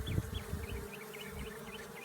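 Swarm of honey bees buzzing close by, a dense continuous drone with individual bees' pitches wavering in and out, no voices.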